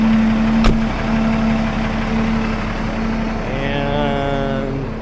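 A Peterbilt truck's diesel engine, on an RV hauler build, cranks over with a brief sharp catch and then settles into a loud, steady close-up idle that carries on alone, its note shifting slightly near the end.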